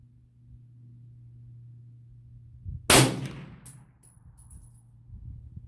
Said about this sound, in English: first shot with the Ruger S-FAR